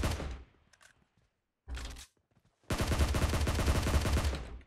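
Bursts of automatic gunfire in the mobile battle royale game PUBG Mobile: a short volley, a pause, a second brief burst, then a long sustained rapid string of loud close shots.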